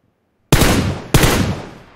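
Gunfire in PUBG on the Vikendi map near the Cement Factory: two loud, sharp automatic bursts in quick succession, each decaying briefly, after a moment of silence, with no voices.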